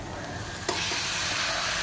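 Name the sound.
chickpeas added to sizzling tempering in pan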